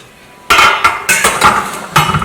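A lid goes onto a pot of okra stew simmering on very low heat, giving several sharp metallic clanks and clinks in quick succession, close and fairly loud.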